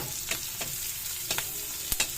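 Onion and garlic frying in a pan, a soft steady sizzle with a few sharp crackles and spoon scrapes as they are stirred.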